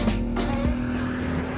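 A 530-horsepower turbocharged Subaru engine screams at high revs under boost, loud and close, with a steady sustained whine.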